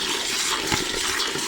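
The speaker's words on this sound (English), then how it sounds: "What now we are going to do is pour in our water that is mixed in with salt." Salted water solution poured onto peanuts roasting in a pan, giving a brief, steady hissing gush of liquid heard alone.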